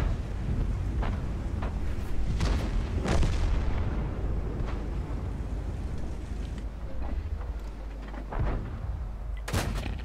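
Artillery shells burst again and again in a World of Tanks battle. Sharp booms and blasts arrive at uneven intervals, some close and loud, others distant, over a steady rumbling battlefield.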